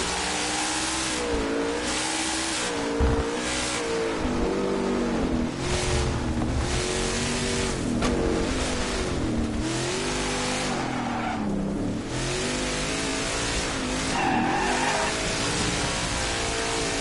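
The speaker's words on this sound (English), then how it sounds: "A burnout for all the fans." A NASCAR Cup Series race car engine roars and revs hard again and again during a burnout at Sonoma Raceway while tires squeal and skid, loud and continuous throughout.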